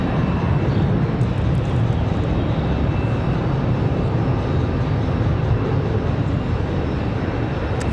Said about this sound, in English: We've got a Frontier pushing back already.